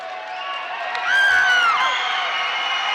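Crowd noise fills a high school gym during a regional tournament basketball game in Madisonville, with a sustained roar that swells into cheering and whoops midway and stays loud to the end.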